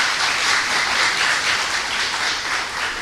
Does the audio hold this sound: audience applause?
yes